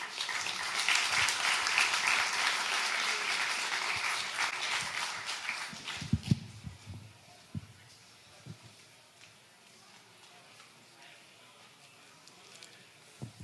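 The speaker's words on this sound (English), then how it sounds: "Another round of applause for him." Audience applause at a security conference talk, loud and dense at first, then thinning out into scattered claps and shuffling as it fades.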